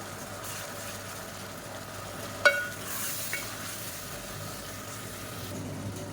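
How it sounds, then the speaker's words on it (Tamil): Onions frying with ginger garlic paste for a lunch box rice dish, a soft steady sizzle in the pan broken by one sharp metallic clink of a utensil. "இப்போ மறைச்சி வச்சுருக்கேன் இஞ்சி பூண்டு பேஸ்ட்டை சேர்த்துக்கலாம் இது நல்லா வதங்கட்டும்"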